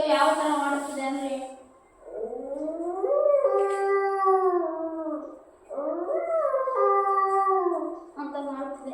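A voice imitates a dog howling, rising and falling in three long drawn-out wails with brief breaks, loud and close, with no other talk.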